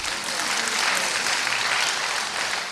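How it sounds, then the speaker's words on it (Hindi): An audience claps for itself, steady, dense applause from many hands filling the room throughout, loud and continuous. "अब अपने लिए आप ताली बजाओ क्योंकि आप सब पास हो गए।"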